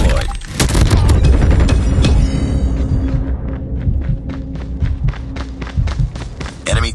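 Sentry gun firing in a video game, a loud rapid burst of automatic gunfire with booming impacts that settles into a fast, evenly spaced stream of shots.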